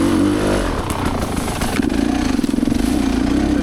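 An off-road vehicle with a weak starter and a grabby clutch starts up on a northern Michigan ORV trail, its engine catching and then running loud and close with a fast, pulsing rumble.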